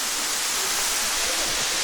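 A waterfall in the Philippines roars as a constant broadband rush of falling water, loud and steady with no pauses.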